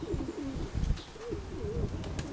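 Pigeons cooing in soft repeated phrases close by, with a few brief chirps and light flutters as a bird settles.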